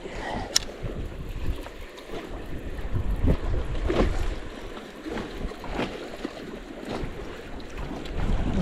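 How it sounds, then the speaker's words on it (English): Strong wind gusts beside a bridge on a riverbank, buffeting the microphone in a continuous low roar with sharper bursts as gusts hit, and no talking. "It's way too windy."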